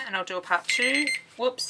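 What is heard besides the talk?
alarm going off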